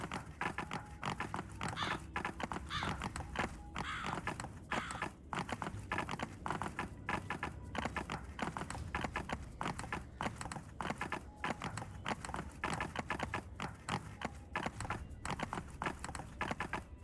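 Horse hooves clip-clopping in a video game, a steady continuous run of rhythmic hoof beats with dense clatter under a game soundtrack, constant in level throughout.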